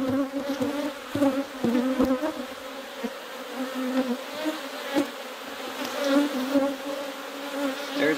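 Honey bees hum in an opened beehive during a split, a close, wavering buzz with fluctuating pitch as bees fly near, with occasional small knocks from handling frames.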